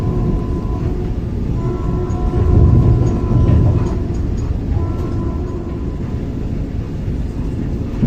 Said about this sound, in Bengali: আমাদের ট্রেন এখন বেরোচ্ছে লিলুয়া রেল স্টেশন।